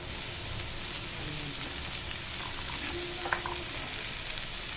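Chopped Malabar spinach (poi saag) frying in a pan with cumin powder, a dense, steady crackling sizzle that holds at even loudness throughout with a faint stir or clink midway.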